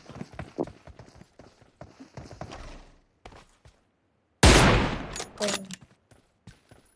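PUBG Mobile gunfire: quick rapid shots patter at first, then after a brief silence a loud, dense burst of automatic fire erupts close by, followed by a few more scattered cracks.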